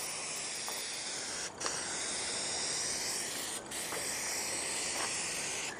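Aerosol primer sprayed onto jeep plastic trim, a close continuous hiss with two short breaks where the nozzle is released and pressed again.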